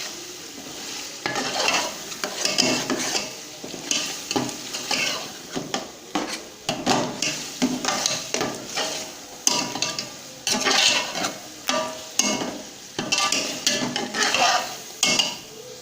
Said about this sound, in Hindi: ये चिकन डालना है और इसको अच्छे तरीके से पकाना है, इसमें भूनना है